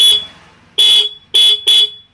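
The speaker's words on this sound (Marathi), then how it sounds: "हा बघा कंपनीचा हॉर्न वाजत आहे" A vehicle's stock factory horn beeps loudly in three sharp electronic bursts after an initial fading tone, shrill and close with short gaps between.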